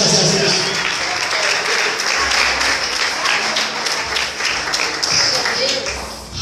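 A church worship crowd applauds steadily, a dense wash of clapping with voices mixed in underneath.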